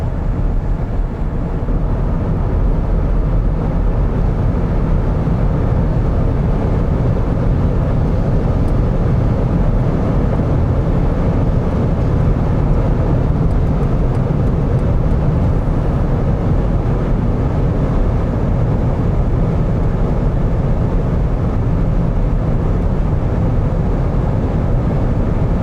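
Steady broadband road and wind roar inside the cabin of a BMW i5 M60 Touring cruising at high speed, constant and moderately loud with no talking.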